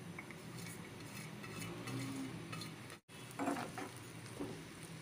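Onions fry in oil in a frying pan for a deghi beef qorma, giving a soft steady sizzle with occasional clinks and stirring scrapes of a utensil, close and fairly quiet, with no talking.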